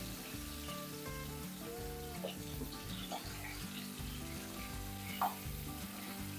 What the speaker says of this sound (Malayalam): മഞ്ഞളും ഉപ്പും ചേർത്ത് അതിനകത്തോട്ടിട്ട് കൊടുക്കാം. ഇത്തിരി അങ്ങ് ഫ്രൈ ആകരുത്, ചെറുതായിട്ടൊരു വാട്ടം.